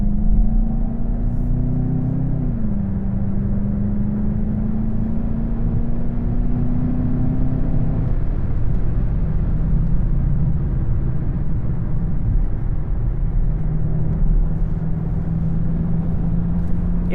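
Volkswagen GLI car accelerating up an entrance ramp onto the highway, a steady engine hum rising in pitch through the gears with a shift partway, then settling into a constant drone of cruising road noise.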